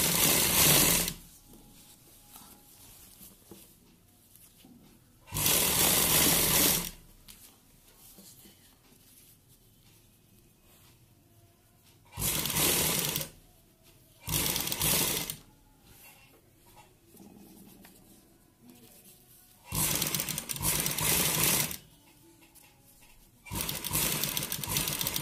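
Sewing machine stitching a round collar neckline, running in several loud bursts of steady rapid whirring separated by quiet pauses, with no talking.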